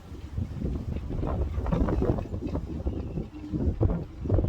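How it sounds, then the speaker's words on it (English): Strong winter wind roaring and buffeting the microphone by a boat, a steady, low rumble with gusty swells. "Do you hear this wind?"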